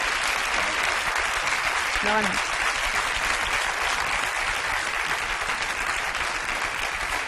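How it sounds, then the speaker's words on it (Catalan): An audience at a televised event applauds steadily and densely throughout, with a brief spoken word cutting through near the start. "Un aplaudiment."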